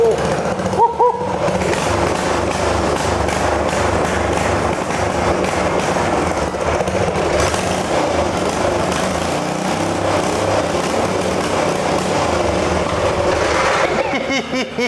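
A Briggs & Stratton small engine, freshly fuelled and choked, built for a homemade mini trike, runs close and loud as a steady, rough, continuous roar with a brief sputter near the start.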